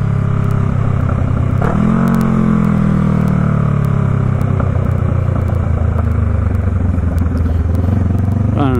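Honda Rebel 500 motorcycle fitted with an aftermarket mid exhaust, its engine loud and close with a throaty idle and a brief throttle blip early on, running steadily throughout.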